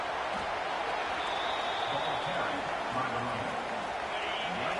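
Crowd noise in a college football video game against Penn State, a constant, loud stadium roar of fans with faint shouting voices within it, steady and unbroken throughout.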